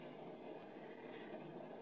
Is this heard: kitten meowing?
no